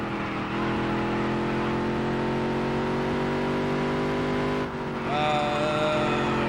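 A race car engine in the Dirt to Daytona video game holds a steady high-pitched drone, then briefly dips before revving back up, climbing sharply in pitch while accelerating, loud and continuous.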